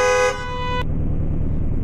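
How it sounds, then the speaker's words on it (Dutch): A Dutch emergency vehicle switches its siren to a different tone: a loud, steady horn-like blare holds for under a second, then cuts off, leaving a low engine rumble. "dan krijg je een andere sirene"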